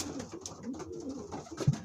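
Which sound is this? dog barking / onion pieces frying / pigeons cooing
pigeons cooing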